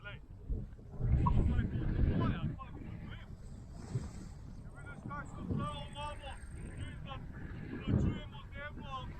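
Wind buffets the microphone in gusty, roaring waves while paragliding at Sv. Tomaž above Praprotno, with people speaking throughout.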